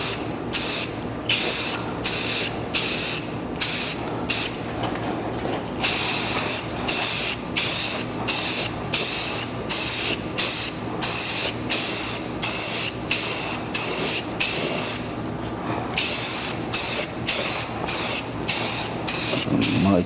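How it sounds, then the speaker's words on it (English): A spray paint can laying shiny black paint onto a Ford Crown Vic windshield wiper tray in steady, close hissing bursts with short pauses between passes. "Painting is just basically trying to lay a nice smooth coat."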